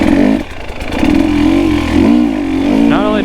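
A KTM 300 XC two-stroke dirt bike engine revs hard on the throttle, a loud close buzzing whine that dips and then rises in pitch with each blip, with a few spoken words over it.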